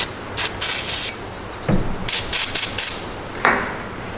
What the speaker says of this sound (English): We'll go with a little carb cleaner.